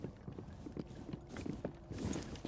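Rapid footsteps from Rainbow Six Siege gameplay, a run of quick, close thuds tapping through the clip amid faint background movement.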